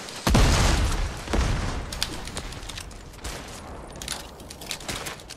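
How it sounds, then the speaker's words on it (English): Grenade explosions in the Unreal game, several loud booming blasts with crackling debris in quick succession, the strongest near the start, then more bursts toward the end. "why are you throwing grenades?"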